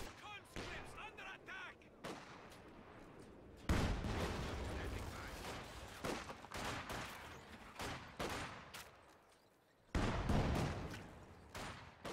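Mortar fire in a World War II strategy video game, heavy booming blasts in separate bursts with short silent gaps between them, some loud and close, others thinner and more distant.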